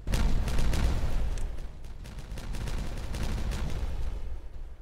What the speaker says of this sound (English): Explosion right at the end of the day.